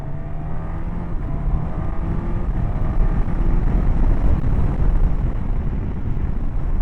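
A 2024 Suzuki GSX-S1000GX motorcycle pulls hard from a ride along a road, its engine droning steadily and loud with rising revs and quick-shifter gear changes, under constant wind rush.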